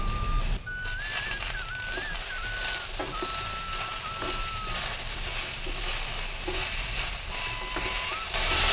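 Two medium tomatoes sauté in a pan for a mixed sprouts curry, a soft steady sizzle with occasional stirring clinks and a thin whistling tone drifting over it.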